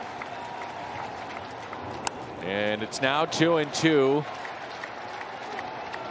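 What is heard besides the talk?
baseball crowd cheering and applauding at Brewers vs Cardinals game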